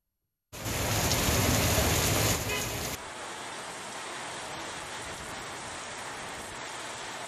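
Heavy rain pours down loudly in Tamil Nadu, a dense steady roar that softens slightly after a few seconds but keeps falling without pause.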